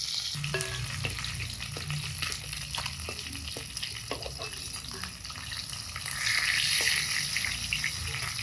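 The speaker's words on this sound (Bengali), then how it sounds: "নামে বাকিগুলো ভাজবো" Pieces of katla fish fry in a pan, heard as a steady sizzle with intermittent clinks and scrapes that swell slightly louder near the end, with no talk.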